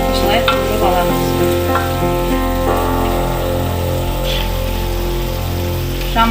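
Eggplant frying in a pan with oil, a steady, dense sizzle that runs unbroken throughout, with occasional stirring scrapes and clinks on top.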